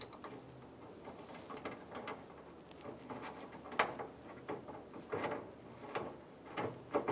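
Grille bolts being threaded in by hand on a 2000-2006 Toyota Tundra, producing faint irregular metallic clicks and small ratchet-like ticks against a quiet background.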